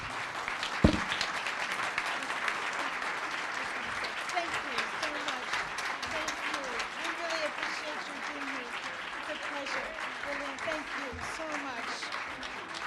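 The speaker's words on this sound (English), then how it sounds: "So please stand, give her a round of applause." A standing audience at a White House Women's History Month forum claps in a sustained round of applause, with voices and a few cheers rising faintly through it.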